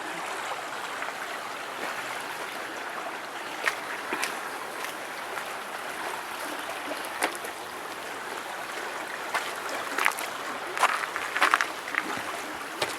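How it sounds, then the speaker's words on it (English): Creek flowing along a nature trail at Beverly Beach, a steady soft rush of running water with light trickling and occasional small splashes and rustles, continuous and moderately near. "There's a creek here."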